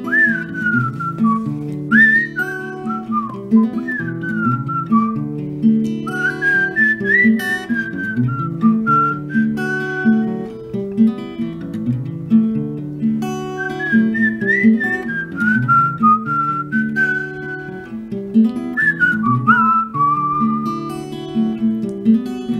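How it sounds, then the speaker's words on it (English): A melodic song is whistled over a steady instrumental backing, the tune rising and falling in phrases without pause for the full length, loud and close with no talking. "And the whistling song would begin."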